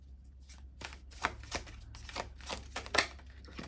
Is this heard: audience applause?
no